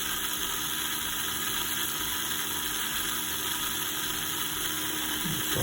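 Scalextric Cooper C66 Formula Junior F1 slot car motor running at low revs, a faint, steady whirring hum with high-pitched electric whine, continuous and alone.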